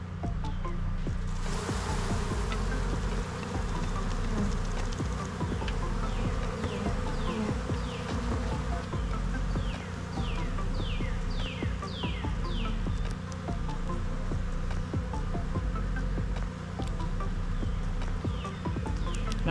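Dense, continuous buzzing of many honey bees close by on a hive frame, a thick droning hum with occasional faint clicks and scrapes, no talking.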